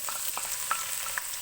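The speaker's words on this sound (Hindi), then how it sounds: "प्याज को फ्राई करूँगी मैं।" Onions fry in hot oil in a pan, giving a steady close sizzle with a few light stirring taps.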